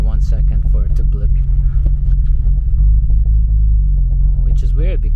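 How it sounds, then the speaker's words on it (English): A naturally aspirated BMW E34 M5 with individual throttle bodies idles in a deep, loud rumble, the revs swelling slowly in a sluggish blip before settling, while someone talks over it. "It doesn't blip really well. You have to be very slow with the blips."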